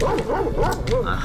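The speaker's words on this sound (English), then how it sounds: "That's the dog." A dog in a video game yips and barks in a rapid string of short, high calls, with a person's voice speaking over it.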